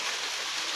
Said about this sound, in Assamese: চাওকচোন কেনেকুৱা একদম বৰষুণ পৰি আছে।